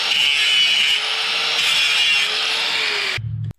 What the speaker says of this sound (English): I'm just going to take a grinder here and smooth off the burrs from the drill bits